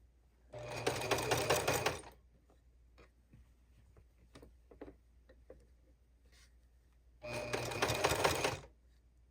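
A sewing machine stitches a wrap dress made from a New Look K6581 pattern in two loud, steady bursts of about a second and a half each, separated by quieter handling clicks and rustles.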